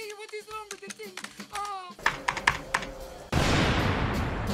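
Rapid typing on a computer keyboard, clattering keystrokes mixed with a voice speaking over them, followed by a burst of louder broadband noise at the end.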